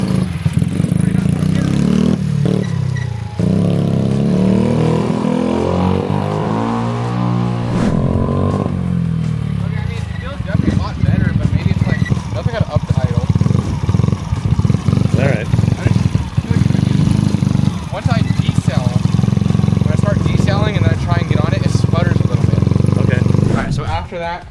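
A 50cc engine idles and revs unevenly after a carburetor mixture screw adjustment, loud and close with a steady throbbing drone, while a person talks over it.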